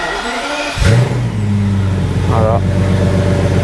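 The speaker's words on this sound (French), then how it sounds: "j'ai rien remonté, mais la voiture tourne à la perfection." A BMW 760Li V12 idles smoothly after starting up, a steady close engine hum with a brief rev, while someone speaks over it.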